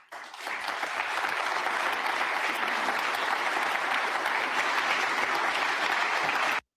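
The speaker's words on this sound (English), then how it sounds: "Pay very close attention to who's not clapping." Audience applause after a speech fills the hall, a dense steady wash of clapping that starts abruptly, holds loud and even for several seconds, then cuts off.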